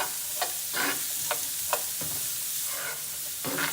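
Chopped vegetables for meatloaf frying in a pan, a steady close sizzle punctuated by regular scraping stirs, with no voice over it.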